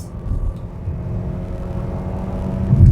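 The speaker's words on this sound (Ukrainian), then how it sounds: "спробуємо розгін від нуля до сотні" A 2017 Kia Rio 1.4 automatic engine drones steadily from inside the cabin while accelerating from zero to 100 km/h, low rumbling road noise building slightly louder toward the end as it gathers speed.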